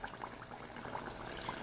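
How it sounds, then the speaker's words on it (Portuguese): Homemade churros made without eggs or milk fry in hot oil, giving a steady, dense bubbling sizzle that is close and continuous, with no voices. "Gente, já está fritando aqui então, olha."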